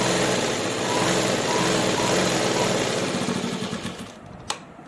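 A sewing machine stitches a kameez with a close, continuous mechanical whir that slows and winds down near the end, ending with a single sharp click.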